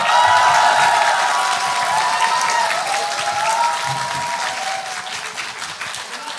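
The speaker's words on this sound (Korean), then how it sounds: "김태호 의원님 비롯한 국회의원분들께도 박수 한번 부탁드리겠습니다" Audience at a political book concert applauds members of the National Assembly, a dense, sustained round of clapping from a large crowd that stays loud throughout and tapers slightly toward the end, with no talk over it.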